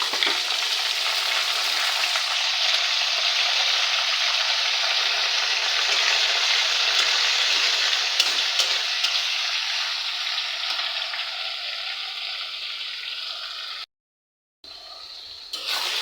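Ginger garlic paste frying for a broiler chicken curry, a loud, continuous hiss of sizzling oil held steady for a long stretch, with a short silent break near the end.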